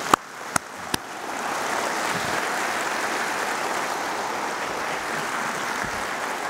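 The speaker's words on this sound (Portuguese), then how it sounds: "Ele merece uma salva de palmas" A church congregation applauds during a religious broadcast. A few sharp claps open, then the clapping swells into a steady, even roar that continues to the end.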